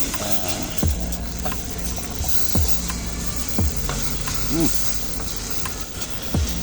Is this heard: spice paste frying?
yes